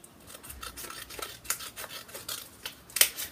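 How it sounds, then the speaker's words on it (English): Scissors cut through egg box cardboard with a series of soft, close crunching snips at an uneven rhythm, the last cut being sharper and louder. "we're going to cut off this little bit here"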